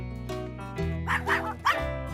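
A dog gives a few short, close barks in quick succession, loud over a faint background.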